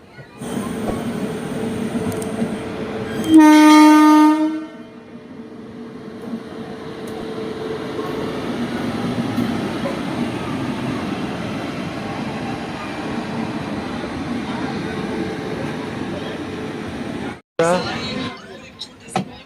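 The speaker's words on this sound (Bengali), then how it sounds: "হাওড়া স্টেশন থেকে ছেড়ে দিল আমাদের ট্রেন 30 মিনিট লেট করে" Tamralipta SF Express pulling out of Howrah station, a brief loud horn blast early on, then a continuous steady rumble of the moving train with a sharp break near the end.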